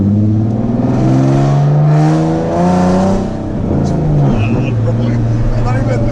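A straight-piped Nissan 370Z Nismo engine rumbles loud and close, its exhaust tone rising and dipping through light revs while people talk over it.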